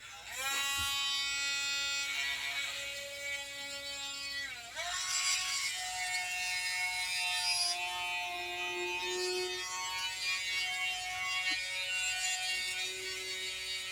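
A high-pitched Dremel rotary tool whines steadily, its pitch dipping and rising as it bites into wet fossil stone, with brief pauses in the grinding.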